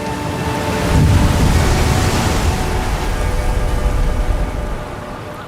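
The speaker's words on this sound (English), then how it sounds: "when you just listen to the sound of the waves" Atlantic waves surge inside a sea cave, producing a loud, deep, rumbling wash of water with a hollow roar that swells and lingers steadily without any voices.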